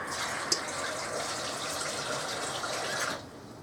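Water pours steadily into a dish for about three seconds with a gushing splash, a small clink near the start, then cuts off abruptly.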